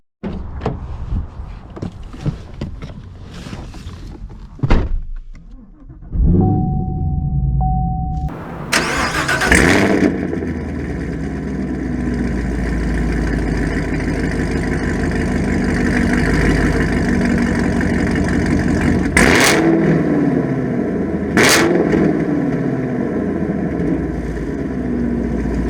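A modified Chevrolet Camaro 1SS: a door clunk and a brief electric whine, then the engine cranks and fires into a loud, close, steady idle, with two sharp rev blips later on.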